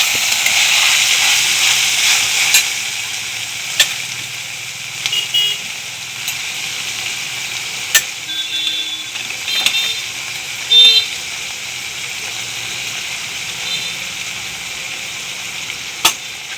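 Red chili powder and turmeric fry in oil with capsicum, making a continuous close sizzle broken by sharp clicks and scrapes of stirring, with no voices.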